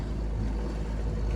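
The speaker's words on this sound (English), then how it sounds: "I was able to get the engine to fire up" A boat engine runs steadily, a low continuous motor hum with a throbbing rumble, close and unbroken.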